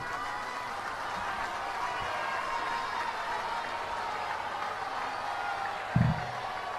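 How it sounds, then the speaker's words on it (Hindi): Applause from a large devotee audience at a Shiv Mahapuran katha in Prayagraj, a steady, fairly distant wash of clapping with a single low thump near the end. "उसके लिए हम एक बार ताली बजाते हैं आप सभी के लिए"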